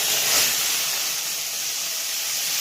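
Googli snails fry in hot oil in a pan, giving a steady loud sizzling hiss with a brief surge near the start, close and unbroken, no talking.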